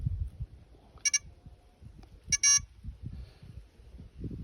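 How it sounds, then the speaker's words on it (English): Two short bursts of electronic beeping from a Ziplevel height gauge as its hold reading locks in, the second burst longer, heard close over a low background rumble. "you press the hold and wait until it beeps and it tells you it's locked in"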